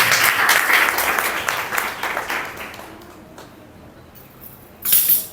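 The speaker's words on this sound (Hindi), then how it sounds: "हाथ ताली बजा के प्रभु का धन्यवाद करें" A church congregation claps their hands in thanks to God, a dense burst of applause that gradually thins and fades, then briefly swells again near the end.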